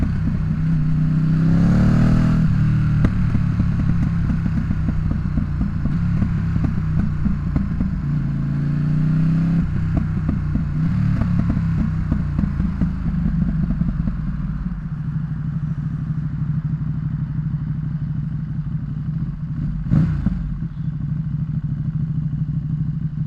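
Ducati Streetfighter V2 with a full exhaust and tune on a dyno, its engine rumbling steadily throughout with crackling pops and brief rev swells, the loudest near the start and one sharp burst later on.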